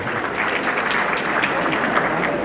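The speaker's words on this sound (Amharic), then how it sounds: "ሞቅ ባለ ጭብጨባ አመስግኑልን እነሱ" At an Ethiopian community association's anniversary celebration, an audience gives sponsors a warm round of applause: dense, steady clapping from a crowd, loud and continuous throughout.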